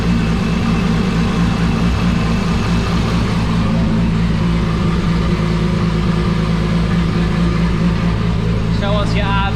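A racing car engine runs steadily at a deep, rumbling idle close by, loud and continuous, with faint voices in the background.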